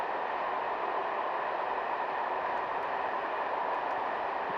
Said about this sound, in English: Let's see another fast train go past the ground.